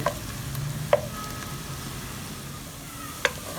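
Green beans hit a hot pan of tomato and homemade pepper paste in olive oil, giving a steady, moderate sizzle with a few sharp clinks of a utensil against the pan.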